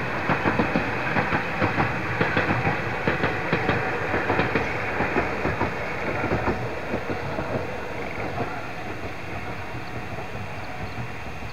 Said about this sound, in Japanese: 鶴木の駅に、到着する列車です。